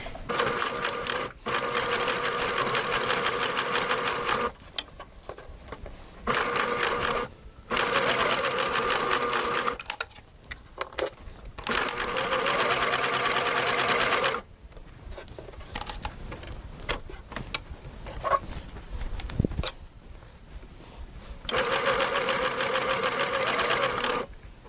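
Sewing machine stitching ribbon at its shortest stitch length, running in steady bursts of several seconds with short pauses between, close and fairly loud with no talk.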